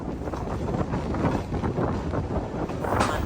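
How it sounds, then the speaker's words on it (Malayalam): Strong wind buffets a sleeper class train window on the Chemmozhi Express, a dense, steady roar close to the microphone, with no voices. "നല്ല കാറ്റാണ്"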